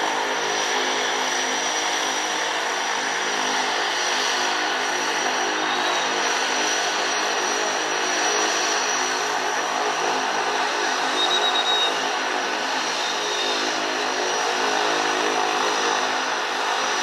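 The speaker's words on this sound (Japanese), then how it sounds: "ギリギリで離陸しましたね" Propeller plane taking off from the steep, sloped cliffside runway at Lukla airport in Nepal: a steady, broad engine roar holding loud and even throughout, with no talk.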